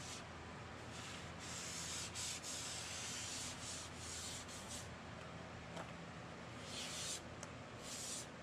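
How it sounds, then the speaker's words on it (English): Continuous rough sanding on drywall edges, a steady scratchy rubbing with rhythmic strokes and a few short bursts of louder abrasion, fairly quiet and close, with no talk. "So you want to make sure you sand the edges the most, and then everything else you just kind of want to sand flat."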